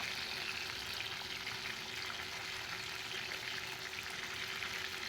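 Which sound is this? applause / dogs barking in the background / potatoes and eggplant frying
potatoes and eggplant frying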